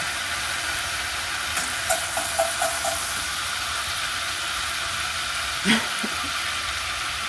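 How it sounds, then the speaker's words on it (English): Food sizzles in a pan with a constant hiss, a few soft pops and bubbles breaking through the crackle. "you can really hear it sizzling"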